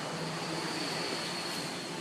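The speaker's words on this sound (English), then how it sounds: "it looks really cool when the car goes by. It goes by super fast." A Test Track ride car at an Epcot-style theme park speeding past, heard as a steady broadband whoosh and rumble with a faint high whine, continuous and fairly distant throughout, with no talking.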